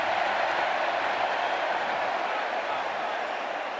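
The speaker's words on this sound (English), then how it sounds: "a gigantic pro-Indiana crowd, and they're loving every minute of it" A huge pro-Indiana crowd roars inside a football stadium, a dense, steady wash of cheering that holds at full volume without a break.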